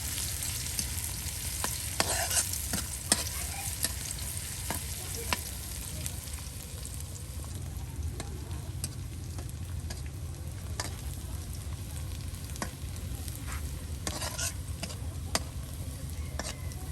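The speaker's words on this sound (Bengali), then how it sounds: "এই যে পেঁয়াজ গুলো একদম সুন্দর করে কিন্তু তেলে ভেজে নেওয়া হচ্ছে।" Onions frying in oil for a country chicken and yam curry, a steady close sizzle with scattered crackles and ticks running throughout, no talking.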